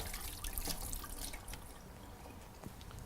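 Soft running water and drips from a kitchen tap while hands are rinsed during seafood prep, faint and uneven with scattered splashes and trickles.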